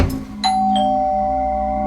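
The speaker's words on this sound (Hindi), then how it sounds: "तो डोरबेल बजी" A two-tone ding-dong doorbell chime, a bright first note followed by a lower second one that rings on and fades slowly, heard alone and close.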